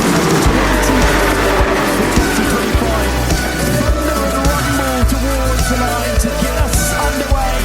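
Race cars roar off at the start of a 24-hour endurance race at Barcelona, a loud dense wall of engine noise with revving and tire sounds close by, continuing steadily throughout.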